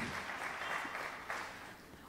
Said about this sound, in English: nobody will start saying anything unless they are properly acknowledged with a loud round of applause